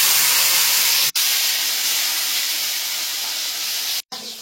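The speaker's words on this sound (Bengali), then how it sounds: "তার জন্য একটা গোটা টমেটো নিয়েছি। ভালো করে তেলে একটু ভাজবো।" A whole tomato sizzles in hot oil for a fish curry, giving a loud, steady hiss that runs unbroken nearby, with two brief dropouts.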